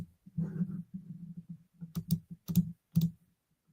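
Clicking and tapping on a computer keyboard and mouse, a quiet run of soft presses followed by several sharper isolated clicks, close and alone without talk.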